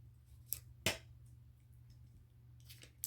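Packaging being cut with scissors during a makeup unboxing, two or three sharp snips spread apart over a steady low hum, with no talking.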